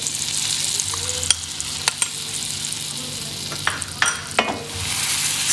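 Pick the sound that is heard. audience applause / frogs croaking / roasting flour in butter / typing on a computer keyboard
roasting flour in butter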